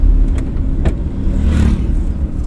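A car moves off in second gear during a driving lesson, its engine giving a loud, close, steady rumble from inside the cabin for a couple of seconds.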